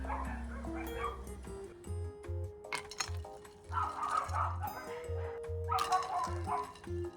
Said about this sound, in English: You can hear the dogs outside saying hello to their friends.